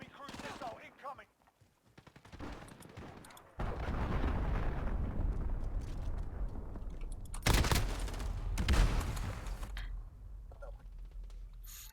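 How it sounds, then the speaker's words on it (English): Cruise missile strike in the video game Modern Warfare 2019, a long heavy rumbling blast that swells after a quieter start, with sharper explosive bursts and scattered gunfire layered on top, loud and dense. "Enemy cruise missile incoming."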